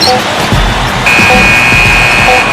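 A steady electronic shot clock buzzer from the NBA 2K15 basketball video game sounds over constant arena crowd noise and lasts about a second and a half.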